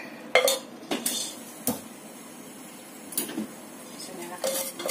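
Pot and utensil clatter from stirring a sweet-potato bread filling sweetened with palm sugar as it cooks down until thick, with several sharp scrapes and knocks over a quiet background.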